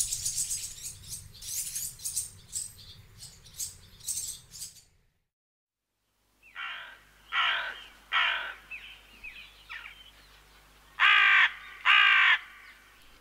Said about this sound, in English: Carrion crows are big, wary, sleek and entirely black.